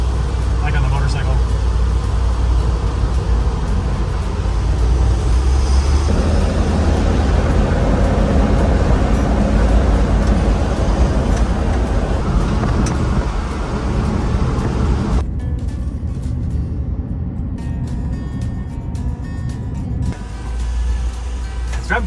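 Steady loud road and engine rumble from a 1957 Chevy truck built on a 2004 Yukon 4x4 frame while driving, a constant low drone heard from inside the cab, with someone talking over it.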